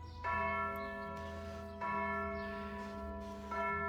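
A tower bell over a market strikes noon: three heavy, resonant strokes about a second and a half apart, each one ringing on under the next.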